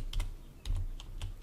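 Fingers tap out a few quick, close keystrokes on a computer keyboard, in two short bursts of clicks.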